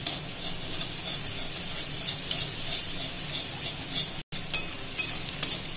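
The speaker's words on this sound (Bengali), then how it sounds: "এবার এটাকে ফ্রাই করে নিলাম, ফ্রাই প্রায় হয়ে এসেছে" Maggi noodle masala frying in a pan at home, a steady close sizzle with stirring scrapes throughout, briefly cut off for a moment near the end, no talking.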